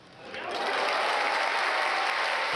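Stadium crowd of football fans clapping at a Matildas women's match, applause swelling up from quiet to a sustained dense roar of hands, fairly distant and unbroken with no chanting.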